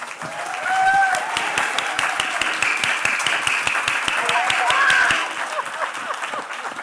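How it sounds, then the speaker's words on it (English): A crowd applauds warmly at an Art Basel Miami Beach conversation event as artist Judy Chicago is introduced. Full, sustained clapping with murmurs and a few voices swells and then eases after about five seconds. "Please join me in a very warm round of applause for Judy Chicago"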